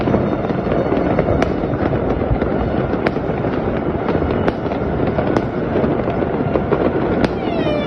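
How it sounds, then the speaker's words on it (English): Continuous fireworks over a city crackle and boom throughout, with sharp bursts and whistling rises layered over a dense, loud rumble of distant explosions. "The fireworks displays were beautiful all across the city."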